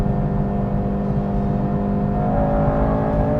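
Stock Honda Civic engine, an 8th-generation Civic Si or FL5 Type R, pulling under acceleration: a loud, steady, close drone with a gradually rising pitch, heard from inside the car with no other sound.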